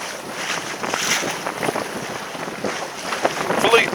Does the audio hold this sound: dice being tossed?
no